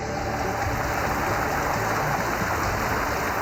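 Rainwater floods the streets of Defence in Karachi, producing a dense, steady rushing and splashing wash of water that stays loud and unbroken throughout, with no voices.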